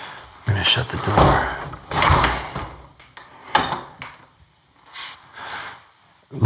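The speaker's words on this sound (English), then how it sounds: "I'm gonna shut the door." A door being shut inside an abandoned, overgrown luxury house, heard as a few close thumps and rattling bumps among footsteps and handling noise, with a pause between the movements.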